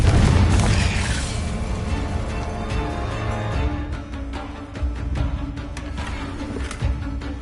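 Confringo blasting spell in Hogwarts Legacy, a loud booming explosion at the start that decays into crackling debris and scattered sharp pops, with no talk.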